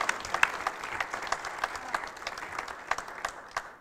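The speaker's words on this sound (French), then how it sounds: "Voilà, qu'on peut applaudir et qui va nous rejoindre pour prendre le prix." Applause for an award winner at a 2012 e-health trophy ceremony, a moderate crowd clapping steadily with scattered sharp individual claps, fairly soft and room-toned.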